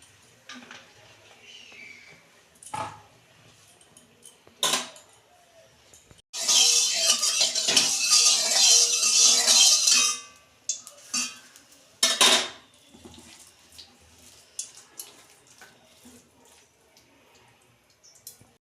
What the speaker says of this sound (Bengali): এই যে কড়াই তেল দিচ্ছি